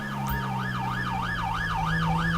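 Police car siren blaring in the LSPDFR game, a steady loud wail sweeping up and down in regular cycles over a low engine rumble, with no talk.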